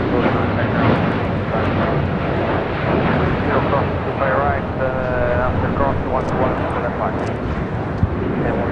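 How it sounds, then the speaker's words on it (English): A Japan Airlines Boeing 787-9 Dreamliner in oneworld livery takes off at LAX, its engines a steady, loud broadband roar throughout, with voices audible over it. "This is Japan Airlines Flight 15 taking off to Tokyo Haneda on a 787-9 Dreamliner in the One World livery."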